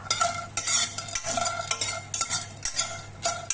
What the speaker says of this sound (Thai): ใส่อบเชยและดอกโป๊ยกั๊กลงไปคั่วให้หอมโดยใช้ไฟอ่อนในการคั่ว